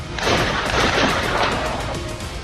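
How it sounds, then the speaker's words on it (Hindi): A loud, sustained burst of booming and crashing noise from explosions inside a five-star hotel, dense and rumbling throughout, reverberating in an enclosed space. "होटल के भीतर धमाके की आवाजें सुनी गईं"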